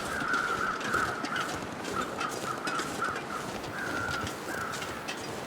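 Crows caw repeatedly in The Long Dark survival game, a series of harsh calls spread through the clip over a constant roar of wind.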